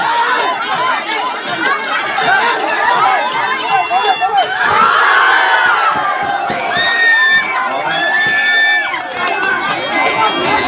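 A crowd of supporters cheers and shouts at a Muay Thai fight, loud and close, with dense overlapping voices swelling into excited yells.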